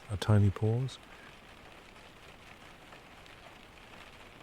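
Soft rain patters on a cabin roof and window during a Scandinavian storm, a faint, even hiss that continues alone after a brief spoken phrase at the start.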